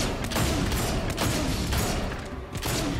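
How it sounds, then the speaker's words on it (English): Rapid gunfire in the Fable 2 video game during a fight with enemies, a dense run of loud shots and clatter with almost no break. "I'm just lazily shooting my gun at them."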